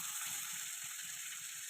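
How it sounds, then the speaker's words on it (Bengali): Fish fries in hot oil in a pan, a steady close crackling sizzle with soft bubbling underneath, continuous and unbroken with no one talking. "আবার উল্টিয়ে দিলাম। এই পাশও ভাজা হয়ে গেছে,"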